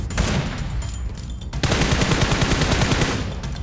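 Loud automatic gunfire from a shooter video game, a burst, a brief lull, then a dense sustained stream of rapid shots.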